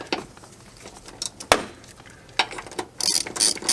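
A ratchet wrench loosens bolts on the dashboard of a 1999–2007 Chevrolet Silverado, giving loud, close clicking bursts with short pauses and a rapid ratcheting run at the end.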